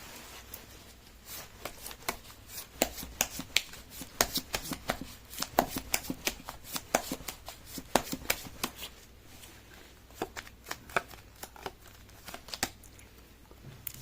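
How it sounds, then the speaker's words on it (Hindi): A tarot deck is shuffled over and over in a long run of rapid, papery card riffles and taps, close up, steady for most of the stretch and easing toward the end. "मैं कर लेती हूँ कार्ड की शफलिंग।"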